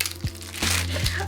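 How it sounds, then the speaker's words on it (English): Plastic bag packaging crinkles and rustles close by while chain jewelry is unboxed, with a few sharp crackles and soft handling sounds. "So this has come in a plastic bag, and then to protect the chains, come in another plastic bag."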